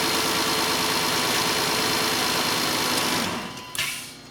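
A VW Routan or Chrysler Town and Country minivan with a no-start fault, its engine cranking or turning over in a steady, loud, continuous drone up close, fading slightly near the end.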